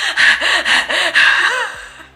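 A voice imitates heavy panting, rapid rhythmic breaths in and out, close and loud, about five quick cycles.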